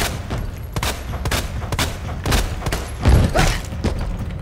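Gunfire in the Resident Evil 2 Remake video game: loud, close shots in a rapid irregular run, punctuated by heavier thumps and booms, with no speech.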